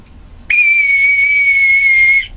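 A single sustained shrill note from a bosun's whistle piped for a ceremonial welcome aboard, loud and close, holding steady for nearly two seconds before cutting off.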